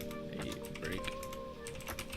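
Rapid typing on a computer keyboard, a dense run of small clicks and key taps close to the microphone over a steady low background hum.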